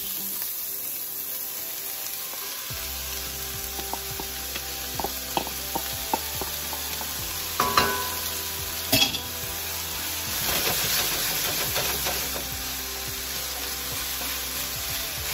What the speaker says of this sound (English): We're kind of getting stir frying this. That's why you want it super hot.